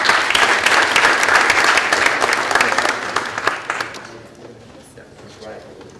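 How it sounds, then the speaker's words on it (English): An audience applauds a speaker at a university lecture with loud, dense clapping that fades out over a few seconds into room quiet. "A big round of applause for Ms."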